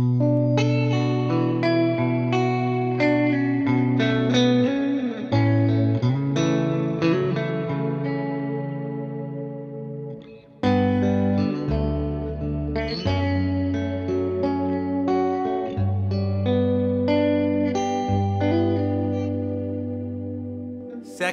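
An electric guitar plays through an OPFXS Twin Boost pedal on its clean amp preset, with ringing chords and single notes in two phrases split by a brief pause. The tone is shimmering and chorus-like with some echo.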